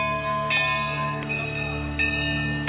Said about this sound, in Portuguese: Eles tocam o sino como quem avisa a chegada.